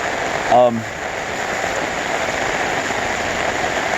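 Steady heavy rain hisses down during flooding in Vestavia Hills, Birmingham, across the whole stretch, with a short voiced sound near the start rising briefly over the downpour.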